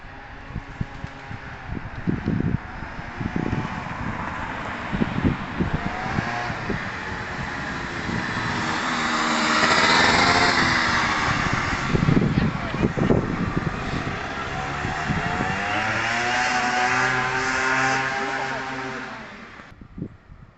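A Gilera 50cc scooter engine with a fuel problem buzzing and revving at throttle, a steady whine rising and falling as it passes at moderate distance, with a voice speaking over parts of it.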